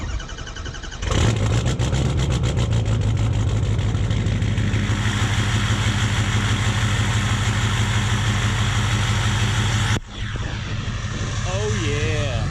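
A 1966 Oldsmobile Toronado cold-starts: the engine catches after a second and roars into a loud, steady rumbling idle for about nine seconds before cutting away to a quieter, different scene.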